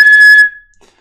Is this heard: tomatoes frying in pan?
no